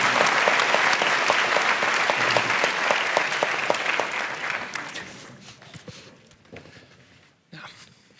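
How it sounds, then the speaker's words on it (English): A large conference audience applauds a discussion panel at a Nobel Week Dialogue health event; dense, steady clapping holds strong for about five seconds, then thins and fades to scattered claps. "a big round of applause for our panel"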